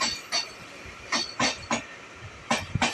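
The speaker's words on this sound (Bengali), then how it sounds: "চলো আবার একটা এক্সপ্রেস ট্রেন এসে গেছে।" The Tebhaga Express rolls past at close range, its wheels giving off sharp metallic clatters in uneven bursts over a low rumble, with a faint clink now and then and no voices.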